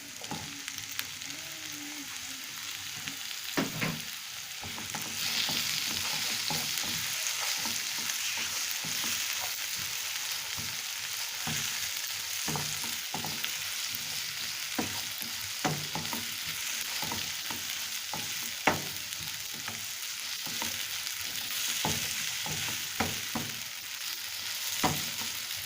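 Tomatoes fry in a pan of cooking oil, a steady close sizzle running throughout, broken by repeated sharp scrapes and clacks of stirring that come at an irregular pace.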